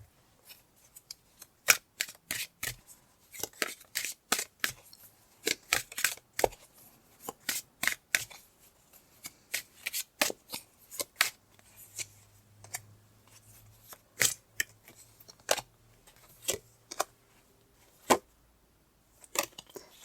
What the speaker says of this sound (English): I'm going to pull some cards to go with that.